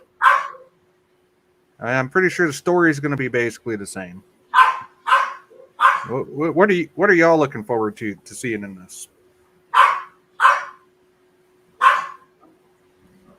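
Dog going off in the background during a live Dune review stream, sharp repeated barks breaking in between stretches of someone talking, sometimes alone and sometimes just under his voice.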